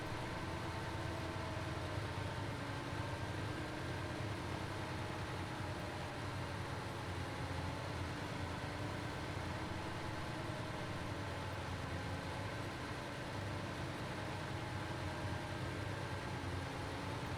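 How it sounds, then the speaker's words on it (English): A big V12 engine runs steadily at a factory sewage treatment facility, a low, even idling drone with a faint hiss throughout, no talking. "This big V12 engine is a beast."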